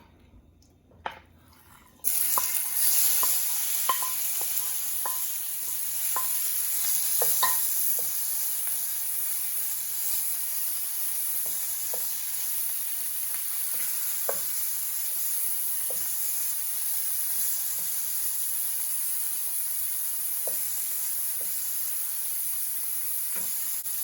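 Shrimp for a drunken shrimp dish hit a hot skillet after a brief quiet moment, then sear with a loud, continuous sizzle and occasional small pops and ticks throughout.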